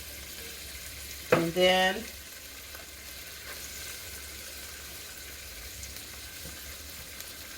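Garlic goes into a hot pan with black-eyed peas and crackles in a short burst of sizzling, then a softer frying hiss continues in the background while a voice speaks briefly.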